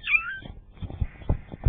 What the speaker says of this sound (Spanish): Y ahora voy a estar con el locutor gato.